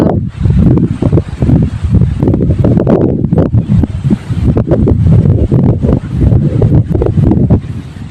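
Strong gusty wind buffets the microphone in loud, uneven rushes, with faint rustling of maize plants in an open farm field.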